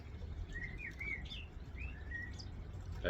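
A blackbird sings in the evening near a garden pond, several clear fluting phrases spaced across a quiet background, moderately close and alone.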